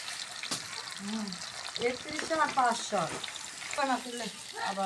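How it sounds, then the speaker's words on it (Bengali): Vegetables coated in spice paste fry in a pan, a soft, steady sizzle running underneath a person talking close by. "একটু বাটা মশলা দিয়ে মাখিয়ে নিয়ে এখন ভাজে নিচ্ছি"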